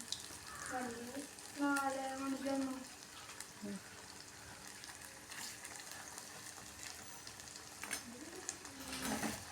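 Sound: potato and egg frying in pan

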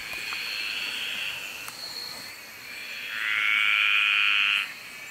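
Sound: graceful tree frog calling

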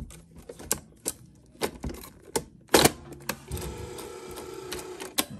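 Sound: Betamax tape loading into Sony BetaMovie BMC-220 camcorder

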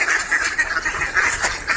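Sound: ducks quacking

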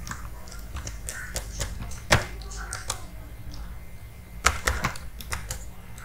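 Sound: typing name on keyboard while registering on mining website

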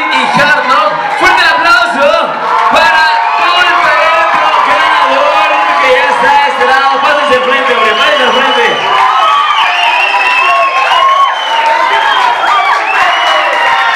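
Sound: applause

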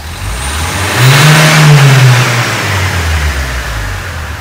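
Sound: car engine revving while accelerating

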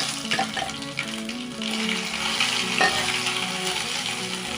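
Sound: ginger garlic paste frying in peanut oil

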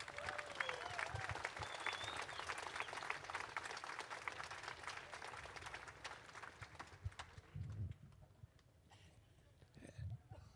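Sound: applause

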